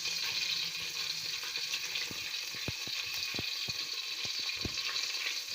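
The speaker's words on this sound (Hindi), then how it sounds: "ऑयल हमारा गर्म हो गया। अब इसमें हम थोड़ा सा, 1 दालचीनी का पीस है, 1 बड़ी इलायची, थोड़ा सा सफ़ेद जीरा, ये हम इसमें डालेंगे।" Cinnamon, black cardamom and white cumin frying in hot oil give a steady, loud sizzling hiss, with a few low knocks and clinks from a spoon or pan throughout.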